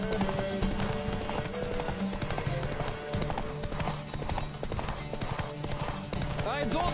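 Hooves of the horse Roach clip-clopping in a rapid galloping rhythm in the video game Witcher 3, over game music and ambient effects, with a brief whinny-like sound near the end.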